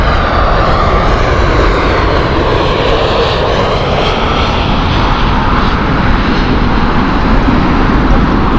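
LOT airliner in Independence livery at Heathrow, its jet engines a loud, continuous broadband roar that holds steady throughout, close by and with no voices.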